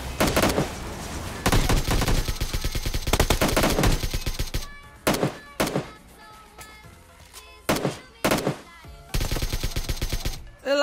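Bursts of automatic gunfire from PUBG Mobile on the desert map, loud and close, with sustained rapid volleys broken by shorter clusters of shots and brief pauses.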